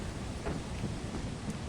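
Rain pours during a thunderstorm in the video game Lethal Company, a dense steady hiss with a low rumble of thunder beneath it and no voices.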